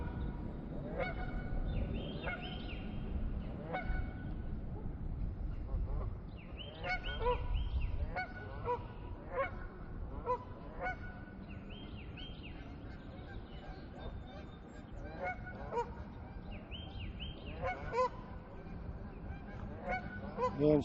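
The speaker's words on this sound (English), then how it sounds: "the geese don't like the drone" Many geese on the Erie Canal honk repeatedly in an agitated chorus at a drone overhead, some near and some farther off, over a steady low rumbling background.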